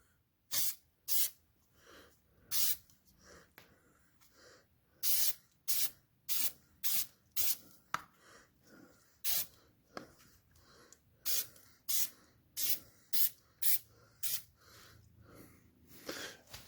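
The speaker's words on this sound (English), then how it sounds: "I'm going to spray just a real light amount on here," A run of short, sharp aerosol bursts of air filter oil sprayed onto a K&N air filter for a Suzuki DR650, about twenty quick hisses in an uneven rhythm, close by with quiet pauses between them.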